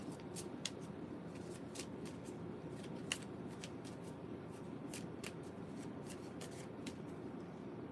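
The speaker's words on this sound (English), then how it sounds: "So I'm going to give this a quick shuffle." A deck of cards is shuffled quickly during a tabletop game session. The riffle gives a soft, fast, continuous patter of clicks, faint and close, with no talk.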